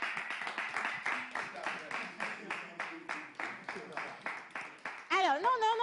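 A small audience claps in a steady, slightly uneven rhythm to welcome a band, the beats distinct rather than a dense roar, and music or voices swell in at the very end.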